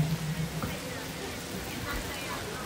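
Heavy rain pours down outside a Louis Vuitton fashion show, a dense steady wash of noise with a voice speaking briefly at the start.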